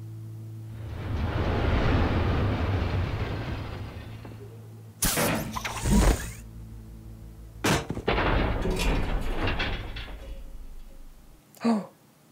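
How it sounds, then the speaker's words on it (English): A train passes in Batman: The Telltale Series, a broad rumbling roar that swells and holds for several seconds, followed by loud crashing bursts and a sharp final hit. "There's a train coming."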